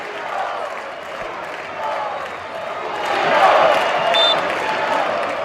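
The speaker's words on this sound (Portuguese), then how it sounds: "parei até aqui para ouvir o alarido da galera fazendo uma justa homenagem ao Bruninho" Stadium crowd at a Brazilian Série B football match, Guarani against Tombense, applauding a substituted player; a distant, diffuse roar of clapping and cheering that swells midway and then settles into a broad murmur.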